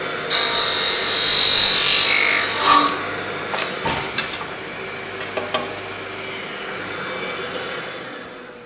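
A golf club shaft is cut down to 45 1/4 inches in a workshop: a loud, steady grinding cut runs for about two and a half seconds, then fades into a few short scraping bursts and quieter handling noises.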